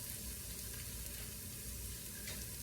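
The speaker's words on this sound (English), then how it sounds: "Adding our paste, we're going to toast this paste." Tomato paste toasts in a hot pan for a vegetarian lasagna, giving a continuous close sizzle and frying hiss with faint stirring underneath and no talking.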